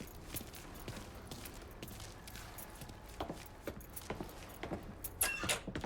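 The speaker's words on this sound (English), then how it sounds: "Lincoln, pick up the keys." Keys being picked up and jangling in Mafia III: scattered light metallic clinks that grow busier toward the end, over faint ambient background.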